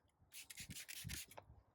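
Several short rubbing strokes of wet sanding a car headlight lens with 3000-grit Trizac pad, close and fairly quiet, in a quick back-and-forth rhythm.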